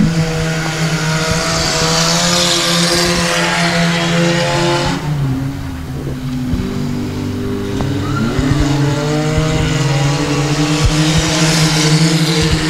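Four-cylinder stock race cars with cages and removed roofs and windows roar around Ark-La-Tex Speedway, a loud continuous multi-engine drone with passing swells and shifting pitch.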